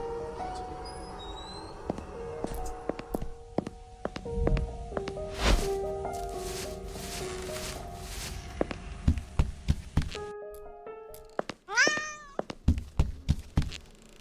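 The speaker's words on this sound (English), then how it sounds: "Come on, Kitty. Where are you?" A cat meows in the horror video game Burnhouse Lane, with repeated short meows near the end over footsteps, thuds and a low eerie drone throughout.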